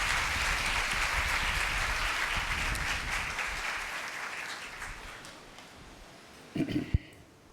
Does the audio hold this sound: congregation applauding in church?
yes